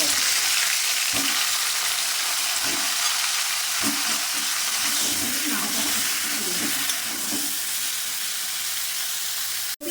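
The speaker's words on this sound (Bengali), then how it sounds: "নুন হলুদ মাখানো ফুলকপিগুলো এবার আমি দিয়ে দিলাম" Cauliflower florets coated in salt and turmeric fry in a little oil in a pan, a steady dense sizzle with occasional stirring scrapes, close and loud throughout, ending in a brief clatter.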